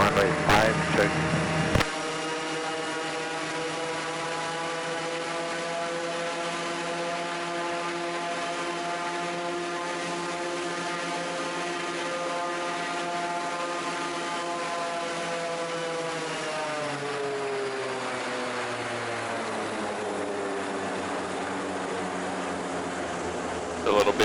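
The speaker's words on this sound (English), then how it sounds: "A little bit of a warm-up run there just to get the oil temp up a little higher." Piper Cherokee aircraft engine on a warm-up run, a steady, close propeller drone that holds its pitch and then winds down lower toward the end.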